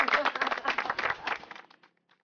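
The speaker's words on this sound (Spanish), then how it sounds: "un aplauso para vuestra compañera que pescó" A small group claps briefly for a companion who caught a fish in the village of Trevías, Valdés, a quiet, close patter of hands that thins out and fades to a few last claps within about two seconds.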